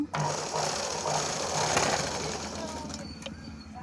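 A sewing machine stitches a blouse lining in a rapid, steady mechanical whirr that runs close and continuous before easing off near the end, with someone speaking over it.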